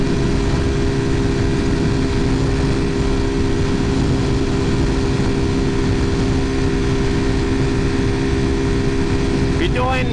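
Vitacci Titan 250 Chinese motorcycle with a 250 cc engine, ridden steadily at about 80 mph near 9,000 rpm, giving a loud continuous engine drone mixed with rushing wind noise, with a brief voice at the very end.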